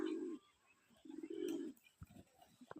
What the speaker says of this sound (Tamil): பாருங்க, இதுலேயும் புறா இருக்கு நண்பர்களே.